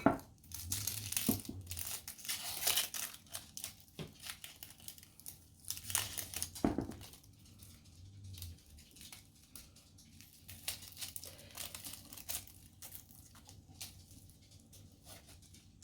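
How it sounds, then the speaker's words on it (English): Dry papery onion skin peeled off by hand gives a close, soft crinkling and crackling that comes in uneven bursts, louder early on and fainter later. "I like to cut one end off and then peel the skin."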